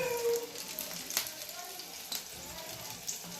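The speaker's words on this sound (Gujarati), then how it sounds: "હવે મરસાની પટ્ટી તળાય છે જોઈ શકો છો" Green chilli strips frying in hot oil in a home kitchen while vada pav is made give a faint, steady sizzle with soft crackles, quiet and close, and a voice talks over it.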